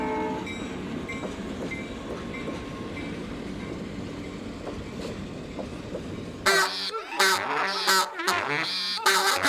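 A train rumbles and clacks steadily as part of a song, loud and continuous. It then breaks into bursts of blaring horn-like tones and music.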